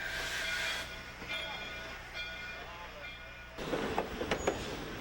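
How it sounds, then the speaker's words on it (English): Shay steam locomotive hauling three old cabooses on level track at a railway museum, a steady rolling rumble with faint hiss and light metallic clicks, growing louder and closer near the end. "this shay has an easy job of pulling 3 old cabooses on the level"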